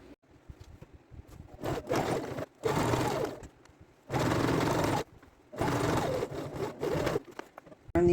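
A sewing machine stitches a grocery bag into a fabric bag in several loud, steady bursts of rapid mechanical whirring, separated by short pauses, with no talking.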